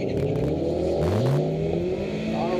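Mazda Miata in an STS-class autocross run, its engine revving up and down through gear changes with rising and falling pitch, close and loud.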